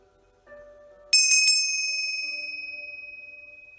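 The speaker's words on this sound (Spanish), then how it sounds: "campanadas para el año nuevo" Bright bell chimes mark the New Year 2022 at a Brahma Kumaris gathering: a quick cluster of about three clear strikes rings out, then a long, pure tone slowly fades.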